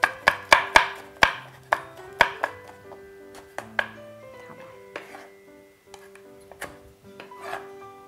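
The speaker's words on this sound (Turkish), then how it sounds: "Biraz daha küçük şeylere doğrayabiliriz." Vegetables are chopped into small pieces for soup with a knife on a cutting board, sharp rapid knocks at first that thin out into slower, scattered cuts, close and clear with no talk.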